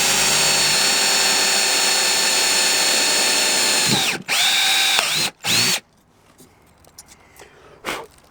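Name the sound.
power drill drilling a hole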